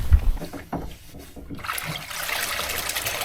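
Water rushes into the ballast tank of a Swallow Yachts BayRaider 17 sailing boat, starting with a gurgling trickle and swelling into a steady, close hiss of flowing water, with no voices.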